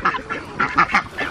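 Ducks on a farm quacking repeatedly in quick, honking bursts, close and fairly loud, several calls overlapping in an uneven rhythm.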